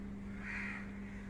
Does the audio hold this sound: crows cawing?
yes